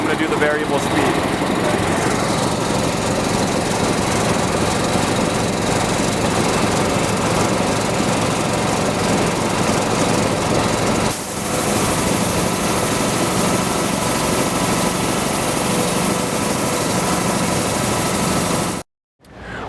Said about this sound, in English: we went ahead and fired up our Honda engine and kicked our full sweep agitator in motion